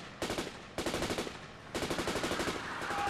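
Rapid automatic gunfire in Grand Theft Auto 4, three loud bursts of fast, evenly spaced shots separated by brief pauses, close and sharp with no talking.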